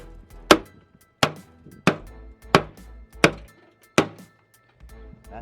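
Heavy hammer blows land on car parts during a teardown of a DB1, seven sharp, loud thuds spaced roughly evenly about two-thirds of a second apart, each with a short metallic ring and quick decay, no talk.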